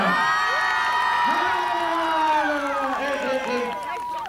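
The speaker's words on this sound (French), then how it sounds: "on les applaudit quand même" Spectators at an Intervilles-style town games contest in Longuenesse cheer and whoop loudly, with shouting voices and crowd noise rising and falling and little distinct clapping.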